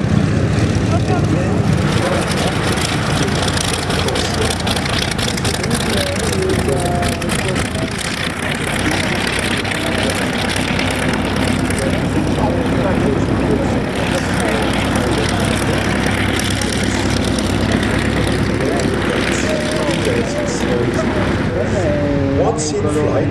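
A Spitfire propeller aircraft flying at the Duxford Flying Legends air show in 2011, its steady engine roar filling the whole stretch loudly and without a break while a voice talks over it.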